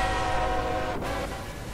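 A Roblox train roars past in a continuous loud rumble with tonal, bell-like horn harmonics sustained throughout, without voices.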